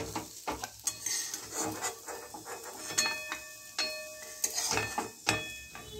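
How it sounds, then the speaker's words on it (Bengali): Cauliflower and beans being lightly fried in a pan, with irregular clinks and scrapes of a utensil stirring against the metal over a soft background sizzle. "আর ফুলকপি বিনসটাও দিয়ে দিলাম। এবার এটাকে হালকা করে ভাজবো"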